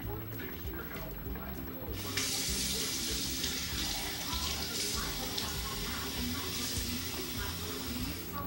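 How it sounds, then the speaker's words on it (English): Water pours steadily into a cooking pot of washed yellow lentils for curry, a continuous rushing splash that starts abruptly after a quieter moment and runs close and even to the end. "And now I'm going to add 3 cups of water."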